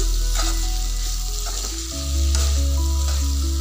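Jackfruit seed curry with fish, khorisa, potato and vegetable masala sizzles loudly in a pan on the stove while it is stirred, a steady frying hiss with faint scraping, and no voices.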